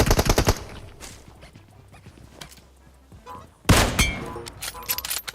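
Gunfire in PUBG Mobile: a rapid burst of shots at the start, a quieter stretch with scattered distant pops, then another loud volley of automatic fire near the end.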